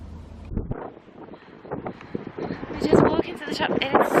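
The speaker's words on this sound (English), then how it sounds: "it's so windy" Strong wind buffets a handheld microphone outdoors near a shop, producing rough, uneven rumbling gusts that swell louder toward the end.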